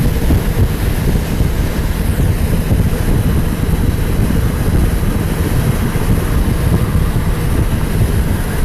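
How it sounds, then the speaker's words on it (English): Wind buffeting a motorcycle helmet while riding at speed, a loud, close, continuous low roar and rumble that stays steady throughout. "I feel the wind buffeting it a little bit, kind of pulling my head back, but not much."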